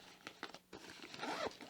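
Zipper being pulled along the front of a lightly insulated soft food bag, a few quick rasping tugs ending in one longer close zip, near and fairly quiet.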